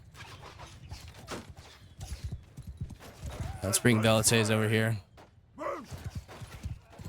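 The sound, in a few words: cavalry horse hooves in Mount and Blade 2 Bannerlord video game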